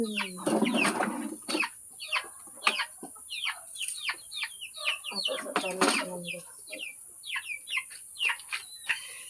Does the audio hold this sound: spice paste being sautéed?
no